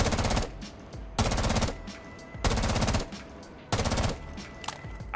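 Automatic gunfire in Rainbow Six Siege, four loud, close bursts of rapid shots, each lasting about a second, separated by short gaps of quieter sound.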